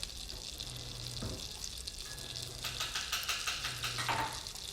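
Minced garlic sizzles in a tablespoon of melted butter in a pan on the stove, a quiet continuous frying hiss with a few soft scraping and stirring noises partway through.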